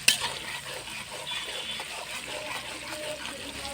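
Chicken with taro root fries in a pan, giving a steady, moderately loud sizzle and bubbling with soft stirring noises throughout.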